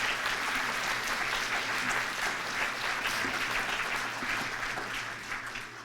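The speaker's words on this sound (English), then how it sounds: "they deserve a big round of applause for what they've done" Sustained applause from an audience at an anniversary gathering in New Mexico, dense steady clapping filling the whole stretch, loud and even without voices over it.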